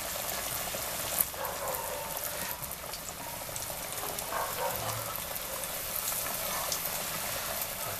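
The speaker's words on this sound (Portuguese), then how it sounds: "Então vamos levar o nosso frango para fritar." Chicken frying in vegetable oil in a pan gives a steady, close crackling sizzle with small pops, running evenly throughout without any talk.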